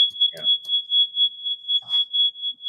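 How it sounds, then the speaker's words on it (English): A fire alarm set off by baking muffins beeps in a fast, steady series of high-pitched electronic tones, loud and continuous, while people briefly speak over it. "No, that's the freaking fire alarm because somebody's making muffins."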